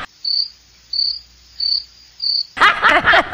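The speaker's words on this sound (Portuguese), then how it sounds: "Põe um grilo aí, Vitor." Four evenly spaced bursts of high cricket chirping, then voices break in with talk and laughter.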